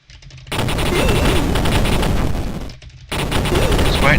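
Rapid video-game gunfire, loud bursts of automatic shots rattling continuously, broken by a brief pause before the firing resumes.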